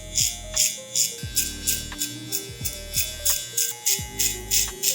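Electric hair clippers fitted with a 3 guard buzz through hair in short repeated passes, a close high-pitched whine swelling and dipping in a steady rhythm, with no talk.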